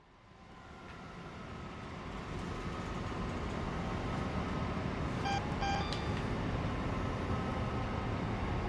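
Busy London Paddington station ambience in Train Sim World 2020: a steady, loud wash of train and crowd noise that swells up in the first seconds and holds, with brief faint tonal beeps partway through.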